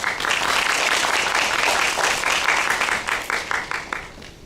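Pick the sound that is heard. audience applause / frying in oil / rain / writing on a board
audience applause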